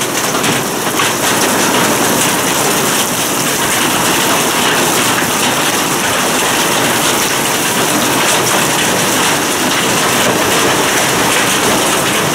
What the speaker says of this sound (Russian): Смотрите, какой град.